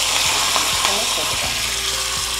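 Spices for a tomato sweet corn chutney tempering: fenugreek seeds, dried red chillies, curry leaves, urad dal and coriander crackle and sizzle steadily in hot oil, with a few sharp pops and faint voices around.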